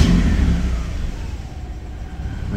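A Nissan Micra fitted with a turbocharged Mazda MX5 engine runs loudly up close, revving briefly at first and then settling back toward a rough idle.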